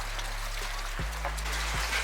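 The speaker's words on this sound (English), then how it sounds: "Oh, so it just started raining" Rain begins falling near a glacier, soft raindrops pattering over a low, steady outdoor background with a few faint thumps, with no voices.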